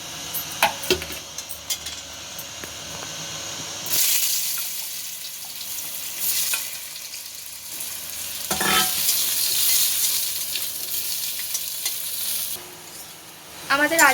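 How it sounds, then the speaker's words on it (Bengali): Potato pieces fry in hot oil in a pan for a Bengali bitter gourd and potato sukto, giving a loud, steady sizzle with bursts of stirring and scraping that swell and fade. No one speaks. "এবার এই তেলেই আলু দিয়ে দেব, আলুগুলো ভেজে নেব।"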